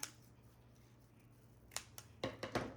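Scissors snip while a bow is made for a grapevine wreath, a few quiet sharp clicks and cuts coming in a small cluster near the end of an otherwise hushed stretch.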